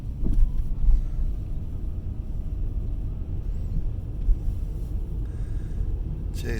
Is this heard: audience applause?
no